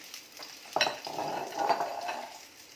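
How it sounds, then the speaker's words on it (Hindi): Sliced bitter gourd going into hot oil in a pan for shallow frying, a sudden sizzle followed by steady crackling and the scrape of a ladle stirring, close and moderately loud with no speech. "अब इसमें ये करेले डालेंगे और इन्हें शैलो फ्राई करेंगे।"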